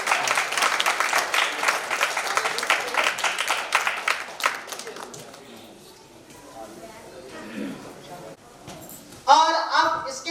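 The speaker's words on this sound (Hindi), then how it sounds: "जोरदार तालियां" Loud, dense applause from a seated crowd at a school ceremony honoring Louis Braille's birth anniversary, fading out, then a voice takes over near the end.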